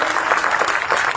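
Crowd of residents clapping at a ward gathering, a short loud dense burst of applause up close with a faint voice mixed in.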